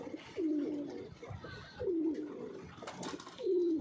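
Pigeons kept in a rooftop loft give three soft, throaty coos at a steady pace, fairly quiet and close.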